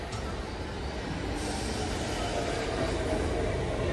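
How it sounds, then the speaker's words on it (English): An R32 subway train arrives at a station, a continuous loud rumble and rush of wheels and cars with brake hiss, heard from the platform without clear talking. "I think my train is here since now I'm in the train station"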